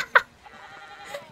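In the video game Pentiment, a sheep gives a brief, sharp bleat near the start. A fainter bleat follows about a second later over a quiet background.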